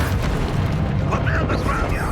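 Booming fiery blast of the Confringo spell in Hogwarts Legacy, a heavy low rumble with crackling bursts and mechanical clatter during a boss fight, with faint game voice underneath.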